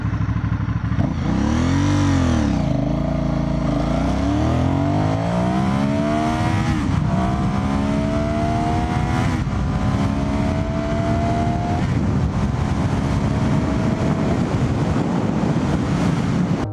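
Aprilia Shiver 750 naked motorcycle ridden on the road, its engine loud and close and rising repeatedly in pitch through the gears, under heavy, constant wind rush.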